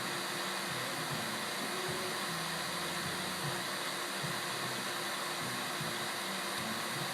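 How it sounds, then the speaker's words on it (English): A vacuum pump drones with a steady, unbroken mechanical whir at constant volume, nearby and alone. "And turn the vacuum pump off."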